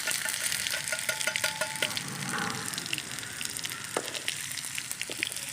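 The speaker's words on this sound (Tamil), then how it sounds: "எண்ணெய் இப்போ காய போகுது, கொஞ்சம் சூடாகட்டு. வச்சு வெங்காயம், தக்காளி, கரம் மசாலா எல்லாம் போட போகிறோம்." Onion, tomato and garam masala fry in hot oil outdoors in a forest setting, producing a dense, steady crackling sizzle with scattered sharp pops and no talking.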